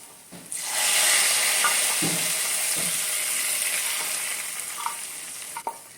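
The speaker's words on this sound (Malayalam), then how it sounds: "ഉള്ളിയും മുളകും വേപ്പിലയൊക്കെ നന്നായിട്ട് ഇവിടെ മുരിഞ്ഞു വന്നിട്ടുണ്ട് നമുക്കിനി ഇത് കറിയിലേക്ക് ഒഴിച്ചു കൊടുക്കാം" A tempering of onion, chili and curry leaves in hot oil poured into a pot of raw papaya and lentil curry, a sudden burst of loud sizzling hiss that slowly fades, with a few light clinks, close.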